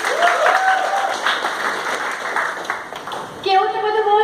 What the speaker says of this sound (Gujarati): લોકો માટે બી જોરદાર તાળી